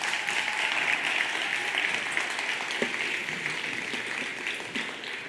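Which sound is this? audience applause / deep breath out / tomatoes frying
audience applause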